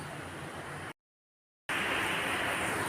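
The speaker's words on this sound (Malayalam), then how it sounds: "പുറത്ത് നല്ല മഴ പെയ്തുകൊണ്ടിരിക്കുന്നത് അതിൻ്റെ സൗണ്ടാണ് കേട്ടോ കേൾക്കുന്നത്" Heavy rain falls outside as an even, constant hiss, broken by a brief gap of silence before it resumes slightly louder.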